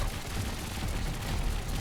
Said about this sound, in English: And as you can see, lots of guns firing.